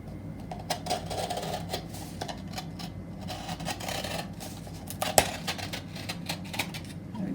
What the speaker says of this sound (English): the first thing we've got to do is cut the base out